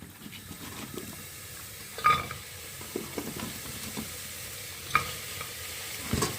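Chopped onion frying in a pan for a spicy egg and potato curry, a steady soft sizzle with occasional stirring scrapes and clinks, close and continuous with no talk.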